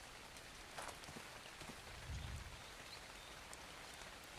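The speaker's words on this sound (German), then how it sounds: "Einfach so aus dem Nichts regnet's." Rain falls in the survival video game ARK Survival Evolved, a faint, steady hiss of drops with a couple of soft thuds and brief rustles beneath it.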